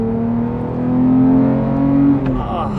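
A 2018 Porsche 911 GT3 flat-six with a SOUL exhaust revs hard, its tone climbing in a strong rising howl, then cuts abruptly as the revs drop, heard up close from inside the car.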